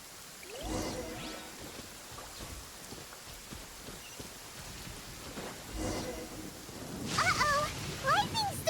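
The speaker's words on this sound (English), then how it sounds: "Lightning storm!" A thunderstorm in the video game Genshin Impact brings steady rain hiss, with sharp crackling lightning strikes and thunder near the start and at the end, while a person speaks over the storm.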